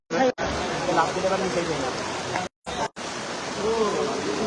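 Rain pours steadily on an outdoor football match at a stadium in Gazipur. The dense, even hiss runs throughout, with faint crowd murmur underneath and two brief dropouts.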